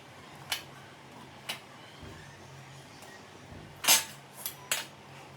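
Dal baati is moved onto a metal plate, giving a few light, sharp clinks and one louder clatter of metal against metal, close and quiet with no talking.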